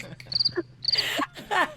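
A person imitates a cricket with a voice, giving a few repeated high, chirping bursts in quick runs, close and clear, with breathy mouth sounds between them.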